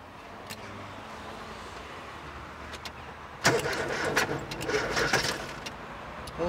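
A Ford Escort running on LPG, with a faulty engine control unit, cranks and fires into a rough, close engine run after a quiet stretch with faint clicks, then keeps running unevenly.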